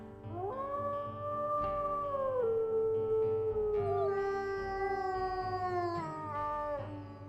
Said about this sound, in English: Why do all my wolves get this howl?